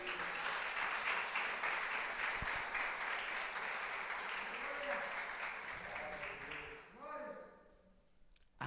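A church congregation breaks into loud, sustained applause that fills most of the moment, while a preacher's voice rises over it before the clapping fades out near the end.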